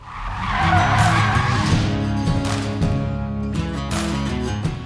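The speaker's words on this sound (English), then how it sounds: "I'm gonna be opening all my videos driving this truck here" A truck pulls away with tires skidding and squealing loudly, the engine rumbling under the sustained screech for several seconds, close by and with no talking.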